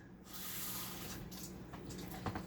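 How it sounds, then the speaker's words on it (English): A kitchen sink faucet runs water into a cup, producing a continuous soft hiss and splash that starts abruptly and carries on steadily, faint and somewhat distant, with no voices over it. "I'm gonna grab 1 cup of water. Sink is right behind me."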